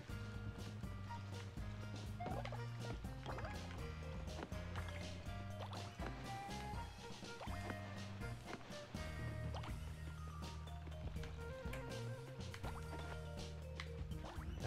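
Water filling up in the Paper Mario Color Splash video game, a steady liquid pouring sound mixed under continuous, busy in-game music.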